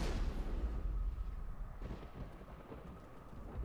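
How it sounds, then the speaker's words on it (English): A single heavy gunshot into the ground in Mass Effect lands as a deep, booming thud that rolls off into a rumbling decay with faint crackle, no voices over it. "Did you just shoot the ground?"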